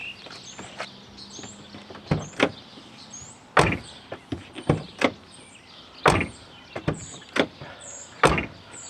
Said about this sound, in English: We have a door handle that works now. And also now it works on the inside